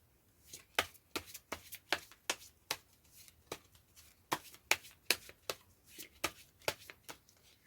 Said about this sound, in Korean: 저 또한 같은 것을 생각하면서 카드를 섞어 보도록 할게요.